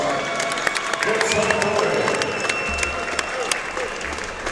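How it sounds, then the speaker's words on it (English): Crowd applause and cheering fill a convention center boxing event after a professional fight, a steady dense roar of clapping with scattered louder claps and a faint voice over the top. "How about a big round of applause?"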